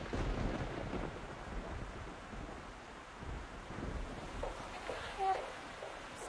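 Thunderstorm with steady rain and wind, a continuous rushing wash with low rumbling thunder beneath, moderately loud and unbroken.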